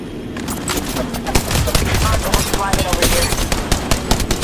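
Enemy squad gunfire in a battle royale video game, rapid bursts of automatic shots crackling over game sounds, with near and distant fire overlapping and a voice speaking faintly underneath.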